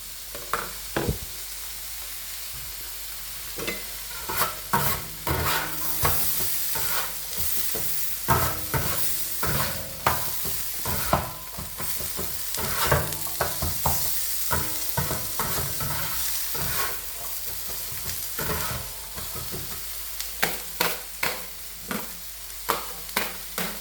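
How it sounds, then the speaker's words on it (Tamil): Onions softening in a hot pan for mutton kothu, with a steady sizzle of frying under repeated sharp scrapes and clacks as a spatula stirs them, close and fairly loud throughout. "வெங்காயம் லைட்டாக வதங்கி கொண்டிருக்குது"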